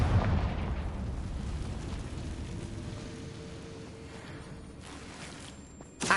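An explosion from a Confringo fire spell in the video game Hogwarts Legacy: a loud burst at the start fades into a long rumbling decay, and a second sharp impact comes near the end.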